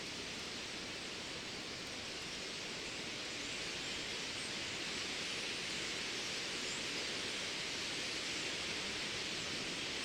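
Dense, steady rushing roar of a large murmurating bird flock, likely starlings, gathering around Blackpool's North Pier at sunset, loud and continuous like running water with no voices.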